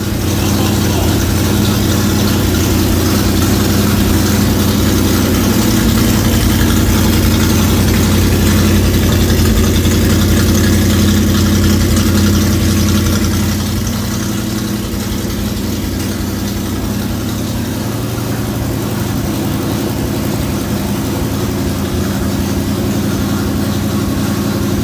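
A carburetted engine, freshly modified, runs steadily at a loud, close idle with a rough, even drone that settles slightly lower about halfway through.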